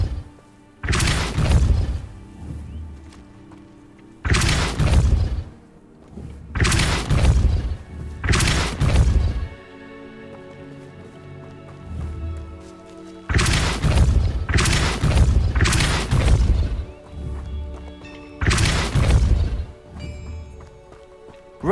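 Depulso spell casts in Hogwarts Legacy, a series of loud booming blasts in clusters, each a sharp heavy impact with a rumbling tail, separated by quieter game ambience.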